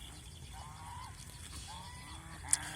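Geese honk on a farm where large geese are raised, with several short calls close by over a steady murmur of background noise, then one sharper cry near the end.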